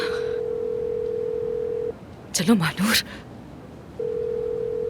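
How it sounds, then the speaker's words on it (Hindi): A steady electronic telephone tone sounds while a call waits to be picked up. It cuts off for a brief spoken phrase from a woman, then resumes at the same pitch. "फोन उठाओ"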